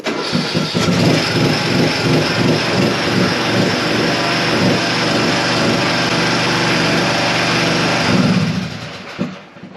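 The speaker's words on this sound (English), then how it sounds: "that's just cranked up straight away" A petrol engine cranks and catches after its battery was recharged, then runs loud and steady close by for several seconds before cutting off near the end, with no talking.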